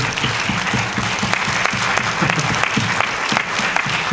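An audience applauding steadily at the Cinémathèque suisse, a dense wash of clapping hands close and loud throughout.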